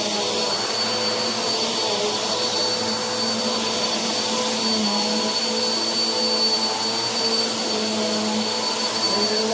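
Bissell PowerForce Helix vacuum cleaner running on carpet, a loud, steady whining motor roar with a constant high tone, close and unbroken throughout.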